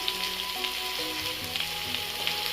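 Onion and capsicum frying in an oiled pan for vegetable fried rice, a loud continuous close sizzle with faint stirring clinks and no speech.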